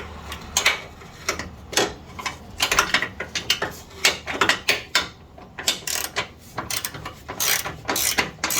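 A ratchet wrench tightening up under a 1999 Chevrolet Suburban C1500 near the radiator hose, giving quick bursts of crisp metallic clicks in uneven repeated strokes, close and clear with no talking.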